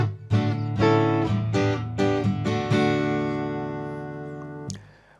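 An acoustic guitar plays the intro of a song: strummed chords on the top four strings over an open D drone, several rhythmic chord hits ending in a long ringing chord, played alone.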